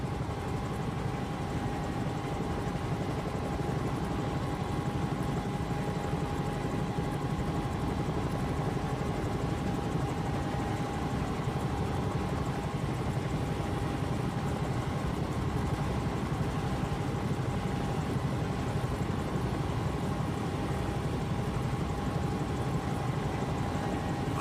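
A steady, continuous Bell 222 helicopter engine drone in a flight simulator game, with a constant whine, unchanging in level throughout and with no talking over it.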